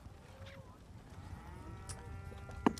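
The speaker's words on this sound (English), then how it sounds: "Why am I hearing so many cows?" Several cows moo faintly in a medieval town ambience, low and distant under a steady background bed, with a brief louder call near the end.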